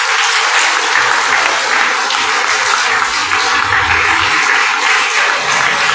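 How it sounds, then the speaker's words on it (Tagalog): A church congregation claps loudly and continuously, a dense, even wash of applause from a large crowd lasting the whole stretch without pause. "Malakas sa palakpak sa Lord."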